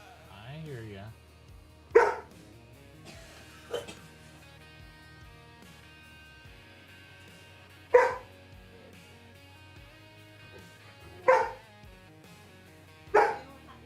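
A puppy barks in short sharp bursts, four or five single yaps spaced a few seconds apart, fairly close, over a quiet background with soft music.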